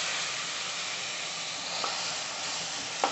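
Chopped blanched tomatoes sautéing in a pan for Italian spaghetti, giving a steady close sizzle and hiss with a couple of soft stirring clicks, with no talk.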